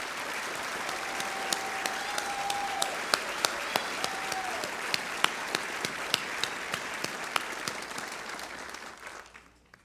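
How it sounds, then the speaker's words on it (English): An audience at a College of Pharmacy white coat ceremony applauds new student pharmacists, a steady wash of clapping with sharp individual claps standing out, tapering off near the end. "Please welcome them with a round of applause."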